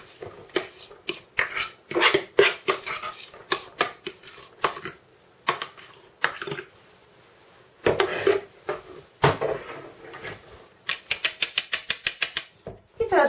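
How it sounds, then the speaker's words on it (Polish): Spoon stirring herring sauce with pickled gherkins in a bowl, giving quick irregular clinks and scrapes with pauses, then a fast even run of taps near the end, close and fairly loud. "Mieszamy to wszystko łyżką."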